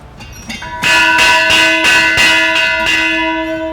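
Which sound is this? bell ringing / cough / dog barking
bell ringing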